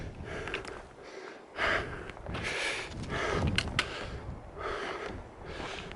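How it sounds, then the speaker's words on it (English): Someone pants with heavy breathing during an uphill mountain hike, with repeated breathy gasps in an irregular rhythm and wind and footstep noise around them. "She's the one panting."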